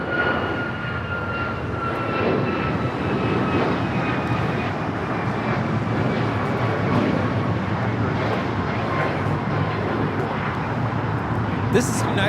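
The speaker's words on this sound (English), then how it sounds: "This is United Airlines 2667 taking off to Washington Dulles on the MAX 9." A United Airlines Boeing 737 MAX 9 jet takes off at a busy airport, a steady, broad engine roar holding level throughout, with faint talk and other airport noise underneath.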